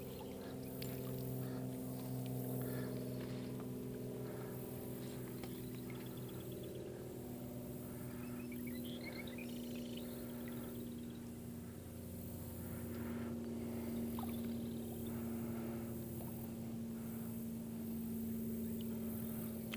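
A boat's outboard motor drones steadily throughout while crabbing on the water, a continuous low hum with faint splashing and knocking on top, no voices.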